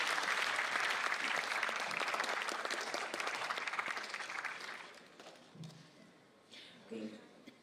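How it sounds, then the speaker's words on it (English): A round of applause from an audience at the Indo-Japan international conference, dense clapping that gradually thins and fades, followed by a few scattered sounds and a voice near the end. "A round of applause for ma'am to be here."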